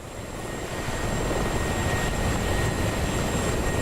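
An MI-24 attack helicopter in a combat flight game, a steady loud rotor and turbine drone swelling slightly at the start and then holding, close and continuous with no voices.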